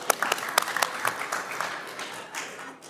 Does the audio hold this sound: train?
no